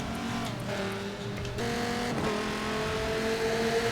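Race car engine in Forza Motorsport 7 at Long Beach: a high, droning engine whines close by and shifts pitch as the car changes gear, with a brief dip and rise before holding a steady scream.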